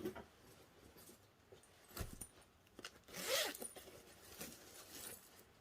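A zipper pull on a travel bag being handled, giving soft metallic clicks and rustles, faint and close, with a brighter jingle near the middle and no talking.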